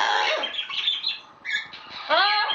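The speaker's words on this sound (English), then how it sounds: "The two noisy parrots are afraid of a piece of corn on the cob." Two parrots squawk harshly and piercingly in quick bursts, loud and close, with a few sharper shrieks near the end.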